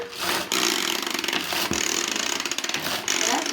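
A kitchen blender whirs loudly, blending rocket pesto with salt, its motor droning with rough grinding pulses and a couple of brief stops before restarting.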